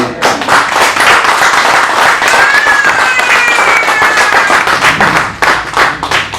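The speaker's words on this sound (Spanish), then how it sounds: "¿Cuánto le dan un aplauso al Señor?" A church congregation breaks into sustained, loud applause with dense clapping throughout, and a faint whistle or cheer rises briefly in the middle.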